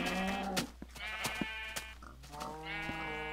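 Several Minecraft sheep bleat in overlapping wavering calls, close and fairly loud, with a few sharp clicks between them and no speech.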